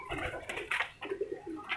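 An Indian Dhumme breed pigeon cooing close by, a short series of soft, throaty coos in an uneven rhythm, alone without talk.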